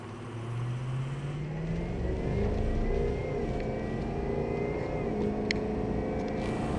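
A 2004 Ford F250 Lariat crew cab 4x4 with a 6.0 liter Power Stroke turbo diesel running on a Banks tuner at setting 6 revs steadily, a loud, close, continuous engine drone with rising and falling pitch.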